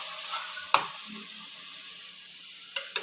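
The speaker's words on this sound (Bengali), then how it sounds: "এবার দেখো মশলাটা কষছি" Spice paste fries in a pan for gondhoraj chicken, giving a soft, low sizzle with a couple of sharp scraping clicks from stirring.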